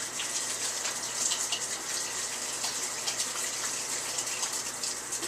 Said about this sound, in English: And then, of course, wash that off instantly.